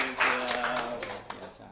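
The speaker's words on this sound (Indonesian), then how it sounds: "tepuk tangan Pak Wegik" A small group claps in a handful of distinct, loosely spaced bursts for Pak Wegik at a free nutritious meals gathering, with a voice carrying a tone underneath.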